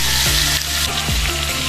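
Chicken pieces fry loudly in a hot pan for tinola, a dense continuous sizzle with a few stirring scrapes, close and without speech.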